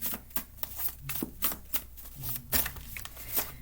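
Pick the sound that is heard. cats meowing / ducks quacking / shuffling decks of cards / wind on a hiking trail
shuffling decks of cards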